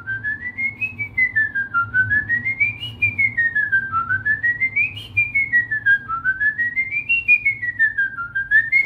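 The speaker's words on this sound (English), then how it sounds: "So I can whistle entire songs inhaling." Continuous melodic human whistling of a song, performed while inhaling, a clear solo whistle rising and falling in repeating phrases with a soft pulsing rhythm and no pauses for breath.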